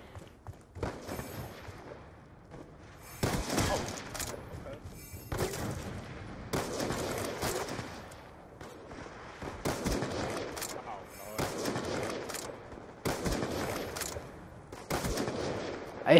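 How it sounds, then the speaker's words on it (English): Repeated bursts of automatic gunfire in a first-person shooter free-for-all video game rattle in clustered volleys across the whole stretch, fairly close and loud, with brief gaps and a voice talking now and then. "I'm getting shot by every fucking direction"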